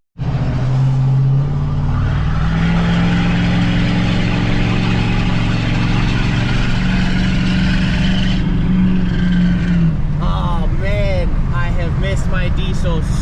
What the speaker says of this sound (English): Those 5-inch exhausts really do scream.